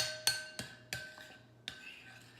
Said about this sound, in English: And mix it one more time.